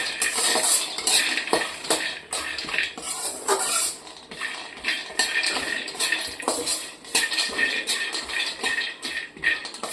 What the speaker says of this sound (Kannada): ಈಗ ಕಡಲೆ ಬೀಜ ಹಾಕೊಂಡು ಹುರ್ಕೊಳ್ಳೋಣ. ಹಾಗೆ ಈ ಏಲಕ್ಕಿನೂ ಹಾಕೊಂಡು ಇದರಲ್ಲೇ ಹುರ್ಕೋತಾ ಇದ್ದೀವಿ.